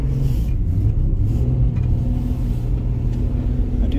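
A 1996 Jeep Cherokee XJ in two-wheel drive accelerates through a foot of snow, its engine a loud, steady low rumble heard from inside the vehicle.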